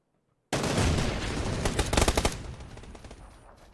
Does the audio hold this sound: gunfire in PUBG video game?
yes